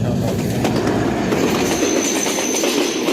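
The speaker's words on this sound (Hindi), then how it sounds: "ये थी रेलगाड़ी वेनी पे" A train rolling past a railway level crossing in a village in rural Sindh, a loud steady rumble with clattering wheels and a faint squeal, close and continuous with no talk.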